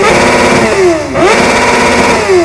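A 750 cc inline four-cylinder motorcycle engine breathing through a Yoshimura exhaust roars loud and close, its pitch dipping and climbing as the throttle is blipped, then settling into a steady high drone.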